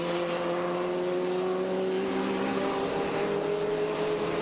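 A BMW race car corners at the carousel on a racetrack, its engine holding a loud, steady drone with a slowly shifting pitch and no talk over it.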